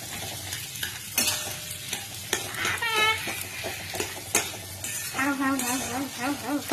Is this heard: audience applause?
no